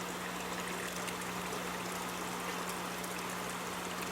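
Water streaming steadily out of an aquaponic bubble wash bead filter in a commercial system, a constant even rush with a low steady hum underneath and no voices.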